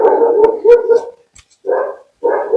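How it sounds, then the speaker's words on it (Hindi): A dog barks in loud, close bursts, a cluster of yaps followed by a pause and two more sustained, howling barks. "एक बार ये डॉगी भौंकना बंद कर दे"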